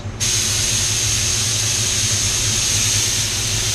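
Paint spray gun spraying at 33 psi, a loud, steady, close hiss of compressed air and atomized paint that starts abruptly and holds constant.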